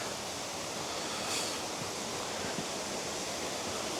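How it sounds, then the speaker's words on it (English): Steady rushing water from a small waterfall, a constant close hiss with no other sounds. "Oh, there's a waterfall here, look at this."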